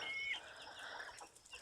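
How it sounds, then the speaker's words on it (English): Hens clucking and fowl sounds in a backyard chicken garden on a homestead, with light Sussex hens among the flock, a soft mix of calls and faint wing flutters at a moderate distance. "over here in the chicken garden, where we have all our hens"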